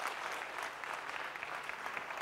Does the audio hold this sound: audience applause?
yes